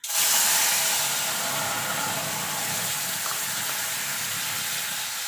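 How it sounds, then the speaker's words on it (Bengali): Strained tamarind pulp hits hot oil in a kadai with a dried red chilli, bursting into a loud sizzle that settles into a steady, close hiss. "এবার তেঁতুলের পালটা ছেঁকে দিয়ে দেবো"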